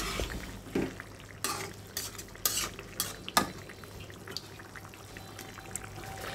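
Ash gourd cooking with hilsa fish in a pan, with faint sizzling under intermittent stirring scrapes and utensil clinks against the pan at close range.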